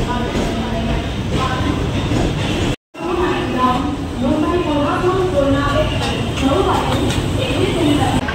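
A suburban train near Dadar station, Mumbai, rumbles steadily throughout with a constant low roar, broken by a brief dropout; people talk faintly under the noise.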